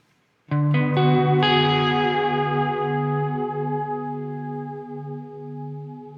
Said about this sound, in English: You can hear that like pitch shift come through every once in a while